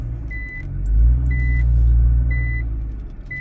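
A Nissan R35 GTR reversing, its low steady drivetrain hum from the gearbox and differential rising and easing slightly, with faint repeated high reversing beeps over the rumble.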